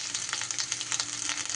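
Grated ginger dropped into hot oil already seasoned with a bay leaf crackles in a brief, even, bright sizzle with quick pulsing pops.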